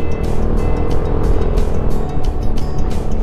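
A truck passes close by on a narrow road in the Bulalacao Hills of Libmanan, a steady engine and tyre rumble that stays loud throughout with gusty wind noise over it.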